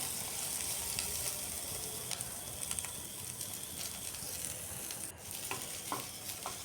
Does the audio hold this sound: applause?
no